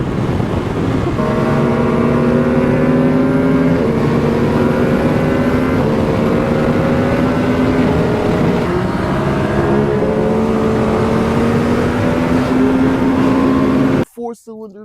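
A Yamaha R9 four-cylinder motorcycle engine revs loud and close at a sustained high-pitched scream, its pitch climbing and dropping through several gear changes before cutting off abruptly near the end.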